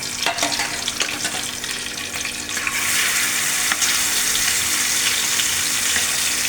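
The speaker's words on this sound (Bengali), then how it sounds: "মাছগুলো ভেজে নেব তেল গরম হয়ে গেছে" Pieces of katla fish frying in a pan of hot oil, a dense, steady crackle that grows louder and fuller partway through and continues without speech, with faint clinks near the start.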